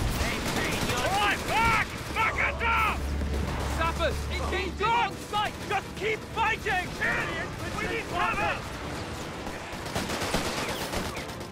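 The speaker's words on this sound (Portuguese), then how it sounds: "Combate napoleônico aí, linha de tiro, artilharia." Gunfire and artillery from the video game Company of Heroes 3, in an Italian campaign battle, crackle in dense volleys with booming blasts throughout, under steady talk.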